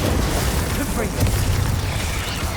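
The Confringo spell cast in Hogwarts Legacy, a dense, loud rumbling blast with low booming energy and crackling texture, sustained through the moment with no clear gap.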